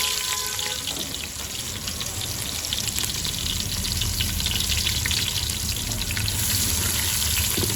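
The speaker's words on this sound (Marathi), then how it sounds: "कांदा थोडा ब्राऊन होईपर्यंत तेलामध्ये शिजवून घ्यायचा आहे भाजून घ्यायचा आहे" Chopped onion with crushed garlic frying in oil in a pan, a continuous dense sizzle with a watery, hissing texture, steady and close throughout, no voices.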